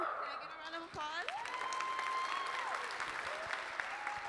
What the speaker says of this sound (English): let's give a round of applause to our participants